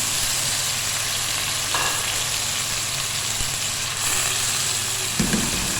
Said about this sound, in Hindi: तो सिर्फ थोड़ा सा फ्राई करें। इसमें कीमा डाल दें।